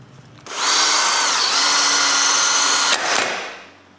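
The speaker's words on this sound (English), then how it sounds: "I drill a hole for a T-bolt" A power drill whirs loudly for about two and a half seconds, boring a hole for a T-bolt into wood, then briefly revs again before winding down.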